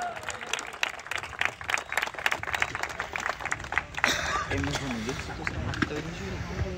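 A crowd applauds at a semi-final match ceremony while the man of the match is honoured, steady clapping mixed with loud talk over a public address and crowd noise throughout.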